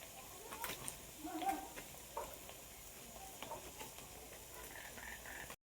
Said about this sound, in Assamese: এতিয়া মই এই ধৰণে ভাজি ল'ম।